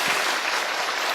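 A church congregation applauds during a Sunday worship service, a dense, steady wash of many hands clapping together at full level for just over a second, with no talking over it.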